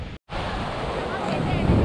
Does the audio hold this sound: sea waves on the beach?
yes